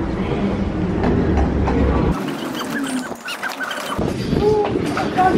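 A train rumbles into a station with clanking and rattling, briefly quieting before the noise of carriages resumes; people's voices mix in.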